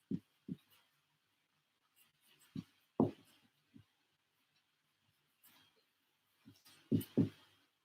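Marker or chalk strokes on a classroom board, writing out a swap function: sparse, short scratchy taps and squeaks in small clusters, faint and close in an otherwise quiet room.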